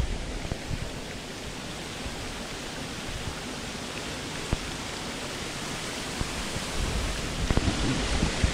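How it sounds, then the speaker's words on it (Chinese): A chain of cascading waterfalls in a rocky mountain stream, a dense, steady roar of falling water filling the scene, close and constant with no voices. "呢啲連環瀑布"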